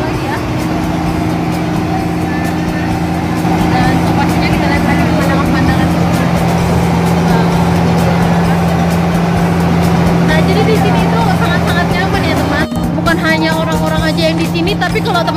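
A rental tour boat's engine on Lake Toba drones steadily and loudly throughout, with a steady hum and water noise.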